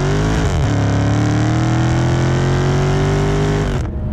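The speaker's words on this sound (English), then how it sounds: "mat it and the Hemi takes over" A Dodge Charger SRT Hellcat Redeye with its supercharged Hemi V8 at full throttle: a loud, sustained roar that shifts up through gears, climbing in pitch steadily before dropping off abruptly at the end, heard from inside the car with no talking.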